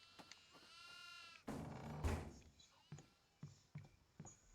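A goat in the video game Devour lets out a wavering bleat, followed by a loud noisy rush and a string of soft clicks and thumps.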